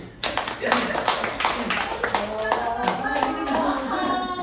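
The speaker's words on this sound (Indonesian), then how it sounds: "Tepuk tangan dulu" Hands clap in a quick, uneven burst at a volunteer training gathering, sharp slaps piling up close by while voices talk over them.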